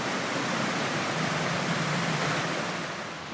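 Creek water pours steadily at Willawong Pool in the Blue Mountains, where two creeks join among rugged rocks, making a close, even rushing hiss with no voices.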